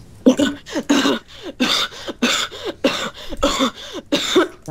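A person coughs repeatedly in a long fit, about nine harsh, close bursts in uneven rhythm, with strained, voiced tails between them and no other sound competing.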